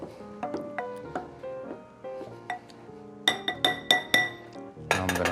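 Glass clinking while a rum martini is mixed, a run of bright, ringing taps on glassware, some single and some in quick clusters, close and fairly loud with no talking.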